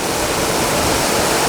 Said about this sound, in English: And the water, when it goes too high, it runs off this dam and goes here and goes under this